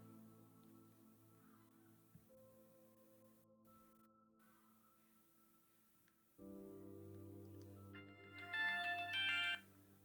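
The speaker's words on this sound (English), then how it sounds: "I should receive a phone call." A phone rings with an incoming call from a voice agent: a steady electronic ringtone that starts quietly, grows louder partway through, and ends with a brighter chiming burst, with no talking.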